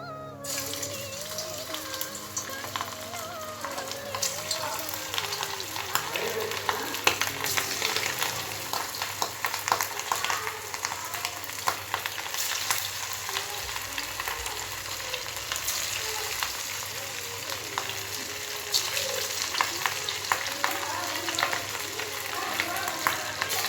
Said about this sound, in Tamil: சில்லி நல்லா பொரியுது அந்த மசாலாவுக்கு வந்துட்டு எண்ணெயில் இறங்கவே இறங்காது